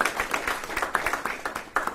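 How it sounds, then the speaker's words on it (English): Round of applause at a military promotion ceremony: an indoor audience claps in a brief, uneven burst of hand claps with a steady rhythm, fairly close. "and so how about a round of applause for Chaplain?"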